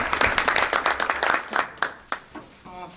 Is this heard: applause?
yes